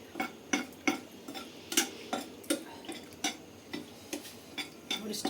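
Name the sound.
frying dry red chillies in oil in a frying pan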